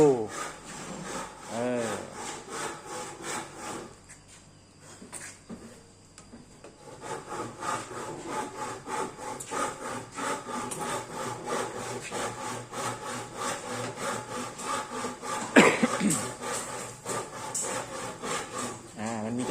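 Rhythmic back-and-forth strokes of a hand saw cutting through wood, close and steady, with a brief lull before the sawing picks up again.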